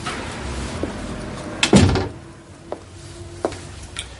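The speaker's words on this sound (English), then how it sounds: "Would you close the door, please" A door is pulled shut indoors with a firm, close thump and wooden rattle near the middle, followed by a few lighter knocks and clicks in an otherwise quiet room.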